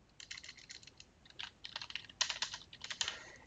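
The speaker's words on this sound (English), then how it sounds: "I've typed, I can continue to type" Light, irregular clicks of fingers typing on a computer keyboard, quick bursts of keystrokes with short pauses, close and fairly quiet with no talking.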